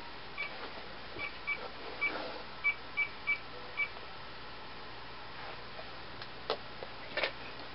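Phone keypad tones ring out for a prank call, a quick run of about seven separate beeps at moderate level followed by a couple of fainter clicks, heard alone against a quiet room hiss.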